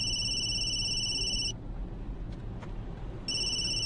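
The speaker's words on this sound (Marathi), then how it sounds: "अरे केव्हाचा तू फोन वाजतोय" A phone ringtone rings in a Marathi TV serial scene, a steady electronic tone pattern that plays, pauses for almost two seconds, then starts again, fairly loud and alone without talk.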